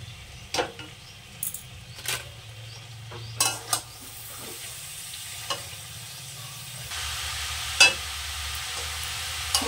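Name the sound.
stirring chopped cabbage into sizzling fried masala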